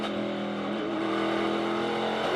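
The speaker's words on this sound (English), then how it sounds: "Fun to be on board like this, listening to that throttle." Onboard engine of a race car at the Tyson 250, a loud, steady high-pitched drone held at full throttle with slight pitch shifts, heard alone.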